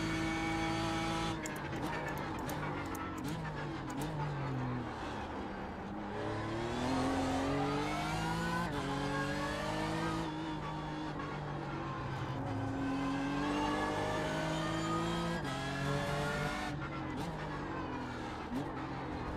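A race car engine in a racing video game runs through a lap, loud and continuous, rising and falling as it shifts and brakes for corners, with occasional tire squeal and a commentator talking faintly underneath.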